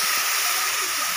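Water hits frying spices in a pan for chicken curry, giving a loud, steady hiss of sizzling steam that holds evenly throughout.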